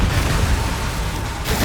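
Confringo blasting spell cast in Hogwarts Legacy, a loud, dense rumbling blast with booming low end that holds steady for most of the moment, followed by a fresh burst near the end.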